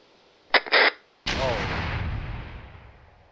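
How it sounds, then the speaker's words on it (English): A wall being breached in ARMA 3 military simulation: a short radio-like voice burst, then a single sudden loud blast whose rumbling roar decays slowly over the next two seconds. "Hopefully that's them blowing the wall."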